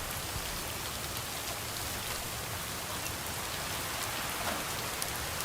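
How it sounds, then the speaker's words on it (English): Steady rain falls in the background outside a lakeside home, a soft, even hiss of drops on surfaces that holds constant without any voices over it. "I will say I'm very much enjoying this rainy ambience that we have going on in the background here"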